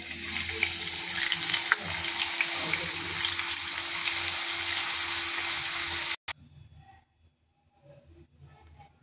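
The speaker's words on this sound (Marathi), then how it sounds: "आता तेल गरम झालेले आहे। आता आपण चिप्स घालायचे।" Potato chips, made from Indori potatoes, frying in hot oil, with a loud, steady, close sizzle and bubbling that stops abruptly after about six seconds, followed by a short clatter and faint scattered sounds.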